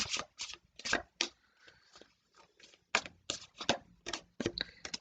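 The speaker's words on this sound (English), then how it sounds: "Just give these a quick shuffle and take three from here." Quick bursts of tarot card shuffling, a run of crisp riffles with short pauses between, close and fairly loud, with no talking.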